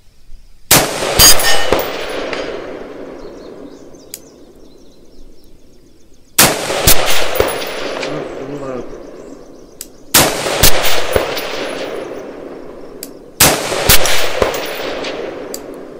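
Four loud, close rifle shots from a PSA 14.5-inch AR-type rifle firing 855 ammunition at an outdoor range. Each sharp crack is followed by a long, fading echo, with no talk in between.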